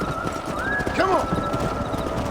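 Horse hooves clip-clop steadily at a gallop in Red Dead Redemption, with a horse whinnying briefly near the middle over a constant background rumble.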